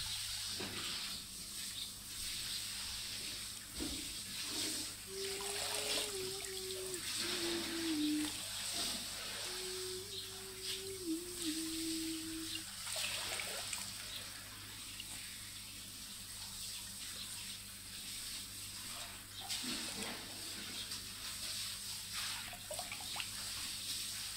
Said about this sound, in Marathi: हे पाणी टाकलं की आणखी येईल.